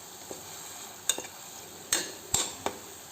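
Masala for upma frying in oil, a steady soft sizzle broken by a few sharp spoon-scrape clicks against the pan, close and fairly quiet with no talking.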